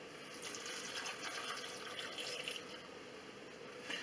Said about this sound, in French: Là je vais rajouter mes 260 g d'eau.